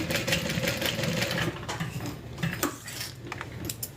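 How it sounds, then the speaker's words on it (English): A sewing machine back stitches through a crossbody bag with a close, rapid mechanical clatter that runs steadily, then slows and stops and restarts briefly. "coming back up, I might back stitch a couple times just to kind of lock that stitch in"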